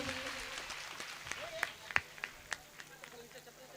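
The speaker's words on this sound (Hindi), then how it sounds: "एक बार जोरदार तालियां हो जाए इन लोगों के लिए।" An audience at a Shri Ram Katha religious gathering in a village claps in a fairly faint, scattered round, with a few sharper individual claps standing out from the steady patter.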